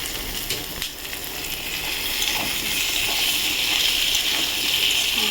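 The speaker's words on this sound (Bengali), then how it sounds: "এখানে সুন্দর করে আলুটা ভেজে নিচ্ছি" Diced potatoes fry with onions in a pan for a tilapia fish dish, giving a dense, loud, steady sizzle that builds slightly and hisses on without pause.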